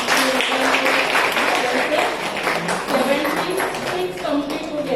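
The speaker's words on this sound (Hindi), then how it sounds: "जोरदार तालियां माता जी के" Strong applause from a gathered audience honoring an elderly woman, steady dense clapping throughout with voices and crowd noise mixed in.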